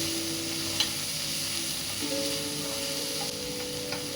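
Onions and tomatoes sautéing in a pan, a soft, steady sizzle close by with faint stirring, no voices over it and a low hum underneath.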